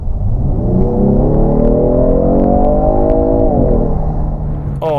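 A 2019 Genesis G70 with its 3.3 V6 engine accelerates hard, a loud, close, steadily rising growl that holds for several seconds before easing off.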